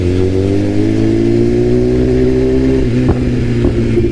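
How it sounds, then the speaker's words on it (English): A Gen 2 Suzuki Hayabusa motorcycle revving hard, its exhaust pipe droning steadily with a few sharp pops and crackles near the end, loud and close with no talking. "listen to that pipe, that popcorn"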